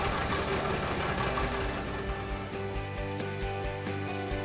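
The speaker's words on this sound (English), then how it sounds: "as soon as I get close to the pin, I'm gonna remove the pin. I'm gonna keep sewing." Sewing machine stitching fabric for a boho dress, a rapid steady mechanical rattle running continuously and close throughout, with slight speed changes and no talking.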